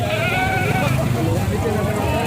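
Goats bleat at a busy goat market, short close bleats rising over a dense crowd murmur and nearby talking.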